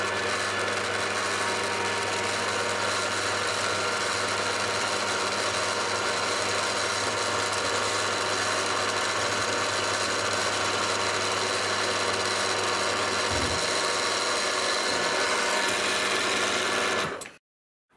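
Steady whirring of a lathe cutting metal with a boring bar to open a hole, a continuous even machine drone that stops abruptly near the end.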